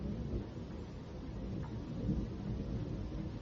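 A summer thunderstorm gives a steady wash of rain with low rumbling thunder underneath, continuous and moderately loud throughout.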